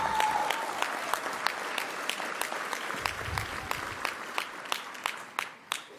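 Audience applause for a small delegation during a speech by the New Mexico attorney general, a steady mid-level crowd clapping with some sharper individual claps standing out, tapering slightly at the end.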